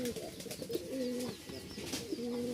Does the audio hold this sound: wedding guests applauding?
no